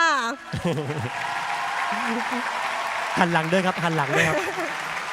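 Audience clapping in a room during an Amway diamond-level pin award ceremony, a steady background patter running beneath someone speaking Thai over a microphone.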